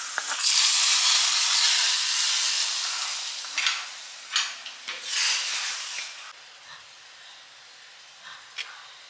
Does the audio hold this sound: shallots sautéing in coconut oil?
yes